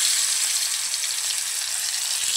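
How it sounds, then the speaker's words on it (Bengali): Hilsa fish frying in hot oil in a kadai, a steady close hiss of sizzling that runs evenly throughout with no voices. "এখন আমি ভেজে নেব, মাছ ফ্রাইটা করে নেব।"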